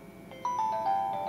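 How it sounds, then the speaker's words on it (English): A soft electronic tone from an APH BookPort Plus plays as its first waiting sound, a short gentle chime-like beep pattern heard quietly over a faint background hiss. "That's waiting sound 1."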